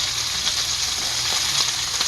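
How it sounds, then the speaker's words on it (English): Onions and garlic sizzle in a frying pan as they brown, a steady close hiss with faint crackles running throughout, no voices. "Nice sizzle."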